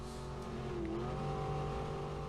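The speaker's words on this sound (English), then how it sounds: "take a ride around the old number 1 speedway with a factory stock car" A factory stock car drives around an old speedway oval, its engine droning steadily and loudly with a rising and falling pitch as it works through long, sweeping, wide turns.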